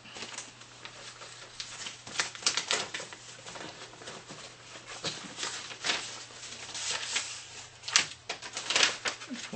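A paper envelope being torn open and handled during a card magic routine, a series of close, crisp rustling and ripping bursts that come and go irregularly, with no talking.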